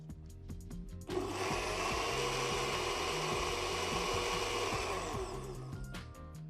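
A liquidizer whips feta into a smooth spread: a quiet background hum, then the motor kicks in sharply and runs as a steady high whir for several seconds before dropping back off, with no speech.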